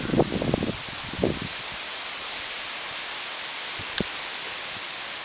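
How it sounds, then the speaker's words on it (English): Wind gusting through trees on a warm, blustery spring day on Salt Spring Island: a steady broad hiss with a few rustling bursts of leaves in the first seconds, then an even wash of air. "Warm and blustery spring day on Salt Spring Island."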